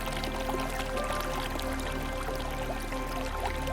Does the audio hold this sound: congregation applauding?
no